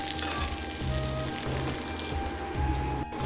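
Rice with turmeric, salt and ginger paste sizzles steadily in a pan, a close, continuous crackling hiss with faint low hum underneath.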